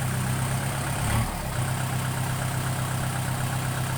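A tractor with a loud exhaust pipe plowing a cassava field gives a steady, close, low engine drone that holds constant with a brief dip in the middle.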